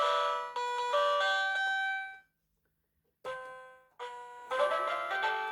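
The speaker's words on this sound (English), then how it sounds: "Apparently that's a violin." Violin voice on a Bandstand 61-key electronic keyboard, playing a few sustained synthetic notes separated by short silent gaps, clean and close with no talking.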